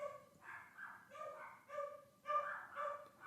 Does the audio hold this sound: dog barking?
yes